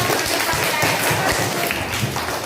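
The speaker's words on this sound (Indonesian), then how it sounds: "Tepuk tangan untuk kelompok Imam Bonjol." Steady applause for a group of students in a classroom session, with dense clapping that carries evenly through the whole stretch and faint voices mixed in.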